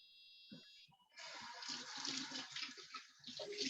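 Shrimp being rinsed under a running kitchen tap for Ecuadorian ceviche, a steady close rush of water splashing into the sink after a brief electronic tone and a few soft clicks.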